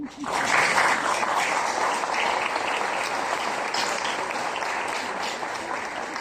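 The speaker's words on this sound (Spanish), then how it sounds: "Vamos a aplaudir a Manolo" An audience applauds Manolo de los Santos, a Dominican-born Cuban-American intellectual, in a sustained, dense wash of clapping that swells early and holds steady for several seconds.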